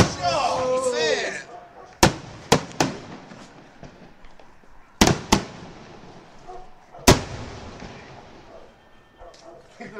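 Sharp fireworks bangs burst out at uneven intervals, several loud reports over a crackling, hissing background with distant voices and whistling early on.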